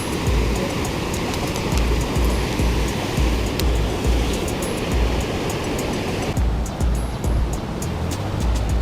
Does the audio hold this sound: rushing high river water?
yes